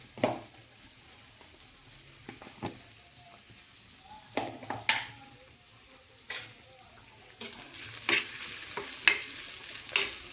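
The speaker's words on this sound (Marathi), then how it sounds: "कांदा आणि लसूण टाकले मी" Onion and garlic frying in oil while being stirred, a soft steady sizzle broken by scrapes and clacks of a spoon against the pan, getting louder and busier toward the end.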